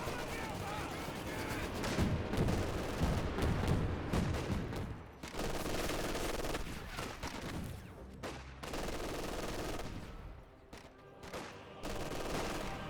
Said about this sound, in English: We got a smoke barrage here.